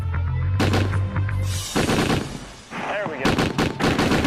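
A Navy ship's deck gun firing, heavy close booming shots with a burst of rapid rounds near the end, someone speaking briefly between them over a loud rumbling background.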